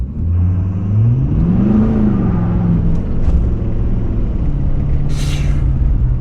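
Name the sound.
vehicle on BFGoodrich KO3 tires accelerating on muddy pavement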